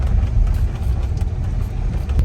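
A truck grinds along a rough, bumpy track toward a resort near Tulum, its engine a steady low rumble with jolts and rattles, loud and continuous throughout.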